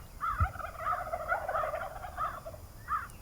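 Flock of wild turkeys in Nebraska gobbling, several rolling gobbles overlapping at a moderate distance, with a thump near the start.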